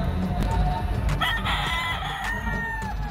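A sweater gamecock rooster at a hobby expo crows nearby over a busy, rumbling crowd background, with sharp clucks and a drawn-out crow fading out.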